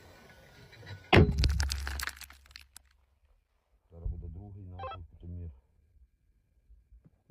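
A mortar round fires with a sharp, loud blast that cracks out once, followed by brief echoing rumble, with a voice talking afterward.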